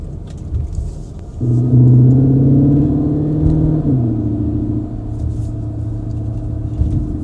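A Cupra Terramar plug-in e-hybrid with a DSG gearbox revs up under acceleration, its engine note rising steadily with a gear change partway through, then settling into a sustained steady drone, loud and close with no talking.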